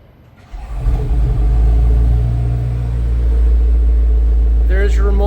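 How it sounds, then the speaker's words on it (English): A BMW X5M Competition's V8 engine cold-starts by remote, kicking in with a rising roar and then settling into a loud, steady, deep idle rumble, with a brief higher chirp near the end. "There's your remote engine start, cold start sound."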